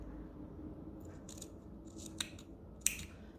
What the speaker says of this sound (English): I'll just trim that back